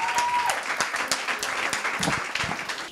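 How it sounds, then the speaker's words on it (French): Audience applause at a live New Year's Eve show, dense steady clapping filling the room throughout, with a brief sustained tone near the start. "Et on peut applaudir, s'il vous plaît, Dre."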